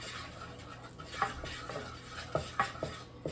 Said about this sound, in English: I'm stirring around.